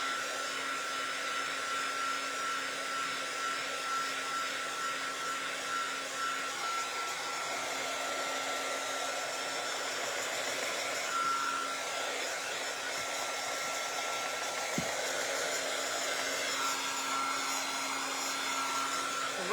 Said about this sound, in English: We're just drying our boot.